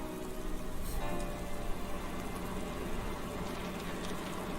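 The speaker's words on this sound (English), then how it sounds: "it's so clearly a sunny day, so they have artificial rain" Artificial rain from a Doctor Who serial, The Curse of Fenric, set in 1989, pours steadily as a dense, continuous patter on surfaces throughout, fairly loud and without speech.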